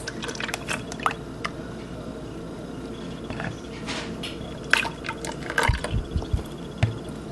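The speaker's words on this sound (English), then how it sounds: "I can add my milk with the sugar and a pinch of salt" Milk poured with sugar and a pinch of salt into a mixer for a plain cake, heard as soft drips, splashes and liquid squishes, with a few louder thumps near the end.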